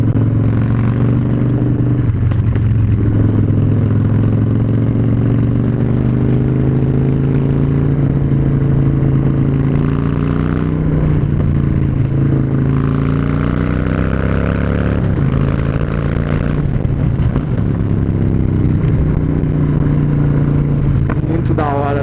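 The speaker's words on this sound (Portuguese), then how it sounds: "da hora que você acelera, você ouve o filtro puxando o ar" A Harley-Davidson Dyna Street Bob motorcycle engine rumbles steadily and revs up and down in surges, loud and close, with a breathy air-intake whoosh on each throttle rise.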